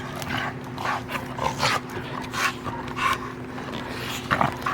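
Two dogs wrestle in rough, mouthy play, with one female dog especially grabby. Close panting, scuffling and small whimpers come in short bursts over a steady low hum, with no barking.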